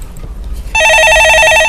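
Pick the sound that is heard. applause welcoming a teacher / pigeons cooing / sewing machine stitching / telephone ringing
telephone ringing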